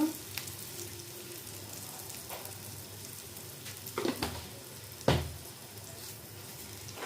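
Semolina for suji halwa roasting in a pan: a faint, even hiss with a handful of sharper scraping stirs, quiet and close, with no speech.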